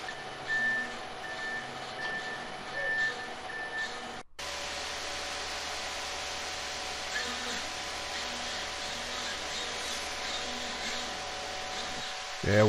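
A concrete truck's reversing alarm beeps steadily in a regular pulse at a slab pour as the second truck dumps its load, over a continuous engine and drum drone, then stops partway through.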